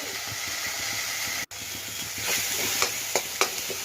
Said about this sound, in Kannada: ಚೆನ್ನಾಗಿ ಹುರ್ಕೋಬೇಕು ಈರುಳ್ಳಿ ಟೊಮೊಟೊ ಹಣ್ಣು.